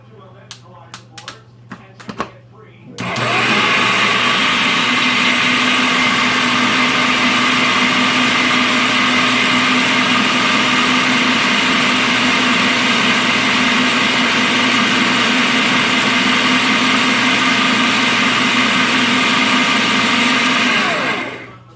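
A blender runs loud and steady for about eighteen seconds, blending a tripled batch of frozen berries into a berry whip, after a few brief knocks at the start.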